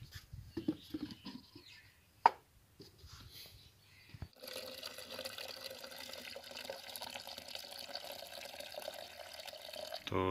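Water is poured into a jug at home for making tea, a steady rushing, splashing flow that starts about halfway through and runs on after a few faint knocks and handling sounds.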